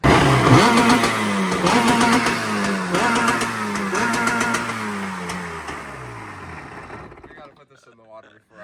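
A motorcycle engine revs hard and bounces off its rev limiter in repeated loud, close bursts, then cuts out into quiet near the end.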